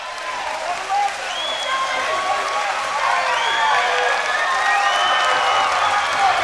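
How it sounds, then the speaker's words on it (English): Ocean City crowd cheering and applauding steadily at a high school Region 8 wrestling final, a dense, sustained roar of clapping and shouts with whistles rising over it throughout. "Got the crowd stirring now."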